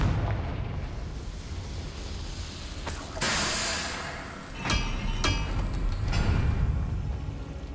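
A Confringo explosion spell in Hogwarts Legacy goes off with heavy booming blasts and crackling bursts, loud and dense, followed by sharper cracks and rumbling debris with no talk.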